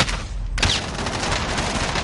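Shotgun blasts in a first-person shooter, one sharp burst near the start followed by a steady dense wash of game gunfire and noise throughout, with no talking.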